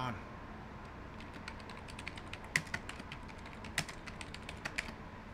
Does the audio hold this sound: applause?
no